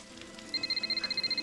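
A payphone rings in a TV drama scene, a fast electronic warble repeating in short even bursts through the second half after a quiet start, fairly clear above faint background.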